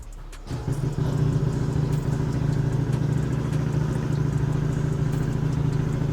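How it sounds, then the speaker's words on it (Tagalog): A Yamaha NMAX V2 scooter engine idling steadily during an engine oil flush at around 50,000 km, starting up at the beginning and then holding a constant close, loud hum with a light mechanical clatter throughout. "Pagka 32, paandarin na natin yung motor para at least sakto natin yung 15 minutes"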